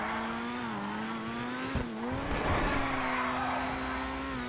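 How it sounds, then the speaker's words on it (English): A Grotti Itali Stinger TT drifts in GTA 5, its engine note holding a steady tone, rising and dipping while the tires squeal through the slide and a brief thump sounds midway. "look at that, it does actually drift"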